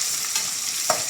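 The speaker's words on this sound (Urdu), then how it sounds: "پیاز پر لائٹ براؤن کلر آنے تک فرائی کریں گے." Thinly sliced onion frying in hot oil with spices for a chana dal pulao, a steady close sizzle with a few brief stirring scrapes, no voices.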